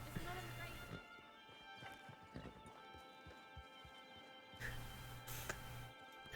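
Horse hooves clip-clop and a horse whinnies in a Red Dead western video game, with uneven hoofbeats and game ambience while someone talks over them.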